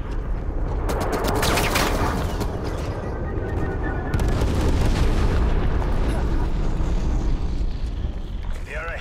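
Sentry turret gunfire in Call of Duty Black Ops Cold War, dense rapid automatic fire with booming impacts, loud and continuous throughout amid heavy battle noise.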